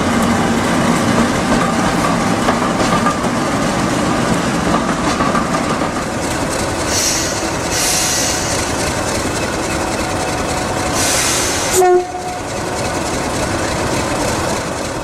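A Class 50 diesel locomotive, number 50044 Fearless, passes close by with a loud, steady engine roar and rail noise throughout. A sharp clank comes near the end, and there is no talk.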